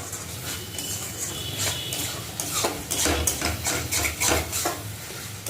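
A masala mixture fried and stirred in a pan until the oil separates, with a steady close sizzle under repeated rhythmic scraping and clinking of a spatula against the pan, no talk.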